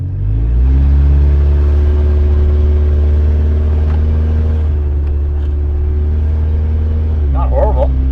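A Honda CR-V AWD engine drones steadily and rises in pitch as it accelerates, loud and close, with a brief voice near the end.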